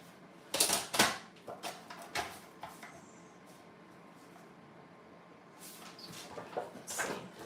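Paper being trimmed for a traveler's notebook list, heard as a few crisp cutting and handling strokes up close with quiet pauses between.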